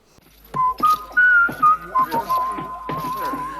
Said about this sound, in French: il y a un petit sifflement en mode